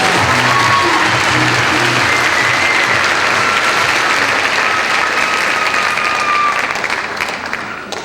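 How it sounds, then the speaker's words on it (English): Loud, sustained applause from a pageant audience cheering scholarship program contestants, a dense wash of clapping that holds steady for several seconds before beginning to fade at the end. "Let's give these fabulous and fit contestants another round of applause."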